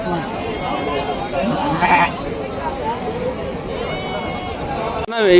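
Lambs and goat kids bleat amid constant crowd chatter at a village livestock market, with a sharp bleat near the end standing out close by.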